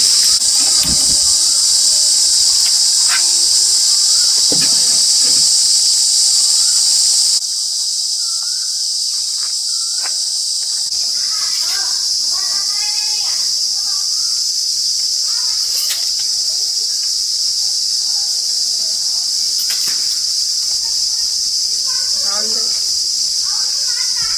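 Garlic, fenugreek seeds, coriander seeds and curry leaves dry-roast in a pan over a medium flame, giving a constant high sizzling hiss with scattered crackles and pops, while someone talks over it.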